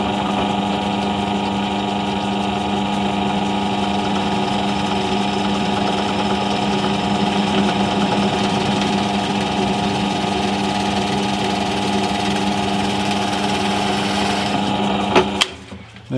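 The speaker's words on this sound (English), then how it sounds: "I'm just going to plop an 8mm hole in this piece of scrap" A drill bores slowly through scrap wood to make an 8mm hole, a steady motor whine with a constant hum running for about fifteen seconds before winding down with a few clunks.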